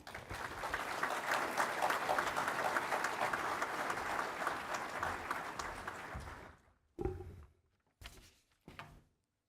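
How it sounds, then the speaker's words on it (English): Audience at a Central Lakes College commencement applauds warmly to welcome a speaker, steady dense clapping for about six seconds that fades out, followed by a few short bursts of sound. "Please give Ryan a very warm CLC welcome."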